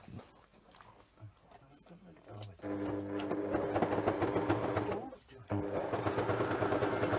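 A sewing machine stitches a bigger zigzag through fabric, whirring in two sustained bursts with a short pause between, after a stretch of quieter handling noise; no one speaks during the run.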